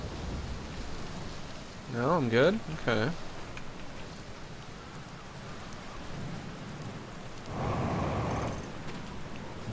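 Rain patters steadily in the video game Outer Wilds, with a low thunder rumble swelling near the end, while a person speaks briefly over it.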